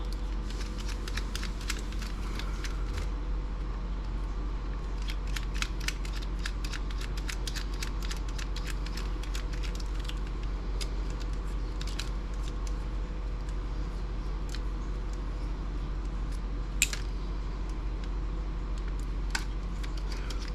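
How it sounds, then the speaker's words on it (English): A screwdriver removes tiny screws from a 1997 Dell laptop. Faint, rapid clicks and ticks of small metal parts sound close by over a steady low background hum. "Got some tiny little screws here to take off."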